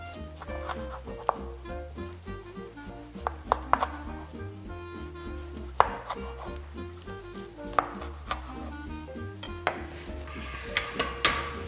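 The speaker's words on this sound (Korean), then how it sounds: "잘 말아졌으면 썰어 보겠습니다." A knife slices rolled cucumber sushi on a cutting board at home, with a series of sharp, irregularly spaced cuts and taps over a quiet kitchen background.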